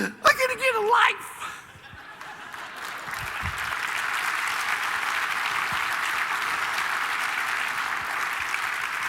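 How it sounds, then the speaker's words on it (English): An audience at a keynote talk breaks into sustained, even clapping after a brief burst of a speaker's voice and a few chuckles, the applause holding steady to the end. "Thanks for clapping"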